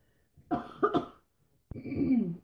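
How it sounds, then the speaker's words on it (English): A person coughs twice in quick succession, then gives a short harsh throat-clearing cough after a brief pause, close and clear. "I now feel like I have to cough"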